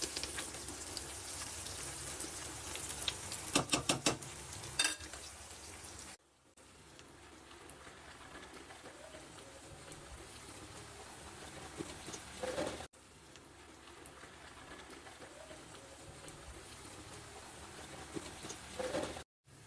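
Stuffed bitter gourd frying in oil in a pan, a steady crackling sizzle with fine patter-like popping that drops off briefly after several seconds, then resumes at a lower level.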